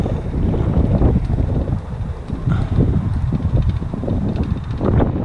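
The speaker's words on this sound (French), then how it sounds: "Il y a du vent là." Steady wind buffeting the microphone with a rough, continuous roar and gusty swells, no voices.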